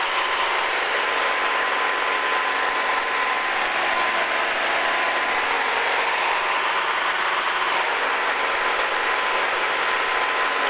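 Inside the cockpit of a Sonex light aircraft on its first flight, the engine runs near full power at 3350 RPM while climbing, giving a loud, constant, unbroken drone with a faint high whine.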